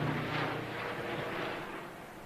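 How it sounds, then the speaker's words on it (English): Steady broadband engine roar of a helicopter flying overhead, loud and swelling slightly before easing off, with no talk over it. "another helicopter"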